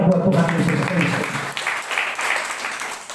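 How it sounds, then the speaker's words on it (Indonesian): A church congregation breaks into sustained applause, broad and loud, with voices carrying through the clapping before it settles into steadier, slightly softer clapping. "Tepuk tangan yang terbaik buat Tuhan Yesus Kristus."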